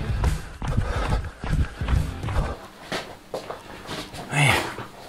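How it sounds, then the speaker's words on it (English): A dog moves about close by outdoors on a cold day, with scuffling, thumping footfalls throughout and a brief sharp yelp-like sound near the end, no talking. "My dog."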